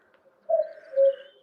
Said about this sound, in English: It's the wretched cuckoo.